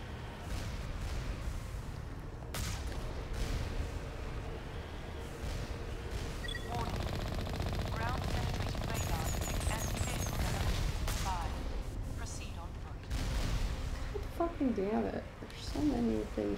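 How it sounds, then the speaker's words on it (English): Enemy gunfire in Mass Effect 1 during Bring Down the Sky, with scattered shots and bursts at moderate distance mixed with game effects, running under a speaking voice for most of the stretch. "Things shooting at me right now."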